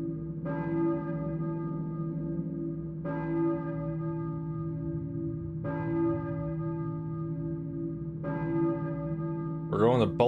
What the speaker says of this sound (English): I hear a church bell, I think, but who's ringing it?